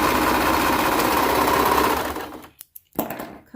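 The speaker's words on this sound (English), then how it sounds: "We're at the sewing machine, and I'm going to just use a zigzag stitch." Sewing machine running a zigzag stitch along leggings fabric, a steady close whirring drone for about two seconds that slows and stops, followed by a few faint clicks and handling noises.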